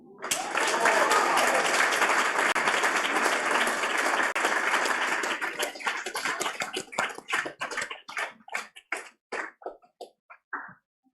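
Applause for an award winner at the 5th Annual Australian FinTech Awards ceremony: a dense roar of many hands clapping that thins out over the last seconds into scattered individual claps.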